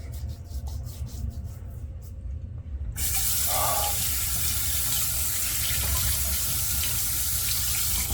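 Tap water runs steadily into a sink while someone prepares to work water into Vegemite used as shaving lather. A few faint splashes come first, then a loud, continuous rushing flow fills the rest.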